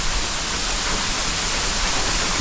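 A mountain waterfall roars steadily beside an abandoned monk's hut in the forest, a loud, even wash of falling water with no breaks and no voices.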